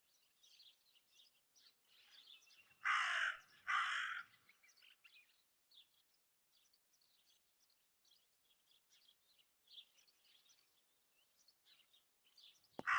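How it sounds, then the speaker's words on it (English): A raven caws loudly twice in quick succession in the Martha is Dead video game, standing out against a backdrop of faint chirping birdsong that continues throughout. "That raven is making a big fuss."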